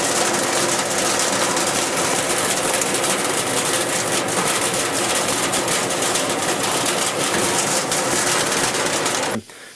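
A duct-cleaning vacuum drones steadily and loudly, with faint rattling and clanking from an agitator inside ductwork running through it, then cuts off abruptly at the end.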